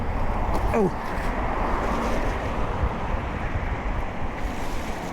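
An e-bike rolls through standing water on a flooded street, a continuous wet hiss and splash with heavy wind rumble over the microphone, close and steady throughout.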